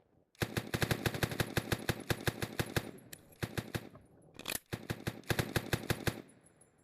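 Gunfire in the video game One-armed robber comes as loud, rapid bursts of automatic shots in a steady rhythm, broken by brief gaps, with a few short electronic tones near the end.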